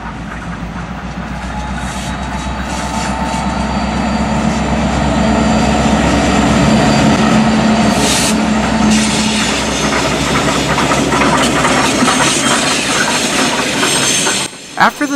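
Norfolk & Western 2156 locomotive on a night ferry move rolls past close by: a loud, sustained rumble with rail clatter through the whole stretch, cutting off abruptly near the end.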